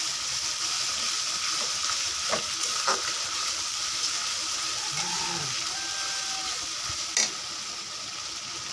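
Spice mix of coriander powder, dried chili, turmeric and salt cooking in a pan for a light chicken and potato curry, a steady soft sizzle with a few scrapes and clicks from stirring.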